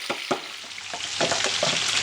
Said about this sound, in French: Alors maintenant que mes saucisses sont bien dorées, nous allons pouvoir ajouter nos oignons.